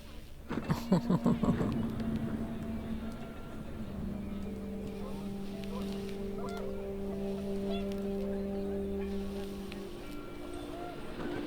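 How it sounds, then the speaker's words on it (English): A burst of panicked goose honking from the game What Remains of Edith Finch, several sharp calls in quick succession at the start, then fading into a steady wind-like drone with sustained tones. "The wind picked up, and panicked geese appeared and quickly went."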